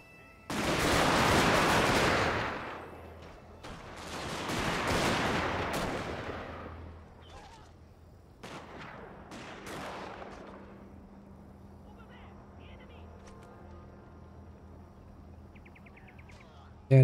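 Video game gunfire crashes out in loud, sustained bursts, two long roaring volleys followed by a few sharper isolated shots, then fades to a quieter hum with faint chirping in the background.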